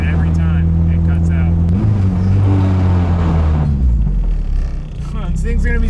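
A turbo K24 engine in a Nissan Cefiro revs up with a rising, loud, close drone, then cuts out abruptly at the same point. Engine pitch shifts and dips, then picks back up.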